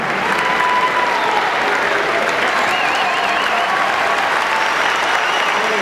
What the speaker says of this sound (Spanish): Despidamos con un aplauso